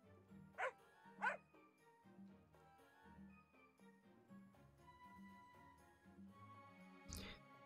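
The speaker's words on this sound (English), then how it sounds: "I guess we're gonna go get the dog that ran off" Two quick yappy barks from a dog in the online role-playing game Record of Lodoss War Online, then a single bark several seconds later, all set against quiet looping game music.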